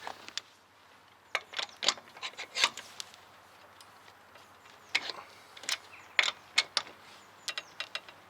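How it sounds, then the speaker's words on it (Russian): A ratchet wrench loosens bolts on a Honda FR-V during handbrake adjustment, giving scattered sharp metallic clicks and clacks in short irregular bursts against quiet surroundings. "Снова отпускаем болты."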